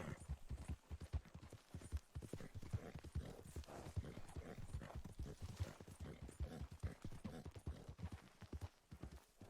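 A horse's hooves clip-clop rapidly in a video game, a brisk, even trot of sharp knocks that runs without a break, close and fairly loud.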